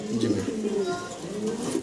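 Fancy pigeons coo up close in a low, rolling run of throaty calls that continue without pause until they cut off abruptly.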